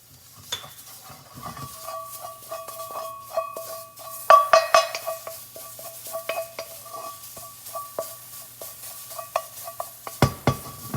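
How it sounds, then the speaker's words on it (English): Curry powder and turmeric toast in a pan with vegetables, giving a soft sizzle under repeated scraping and clinking stirs of a utensil against the pan, close and irregular. "Add your curry powder, a little bit of turmeric inside of it. Toast your spices."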